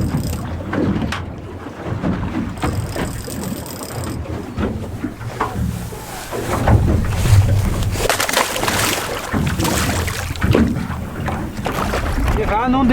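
Fishing boat drifting on the sea off Sørøya, Norway, with wind buffeting, water sloshing against the hull and a low engine rumble throughout, while people talk over it.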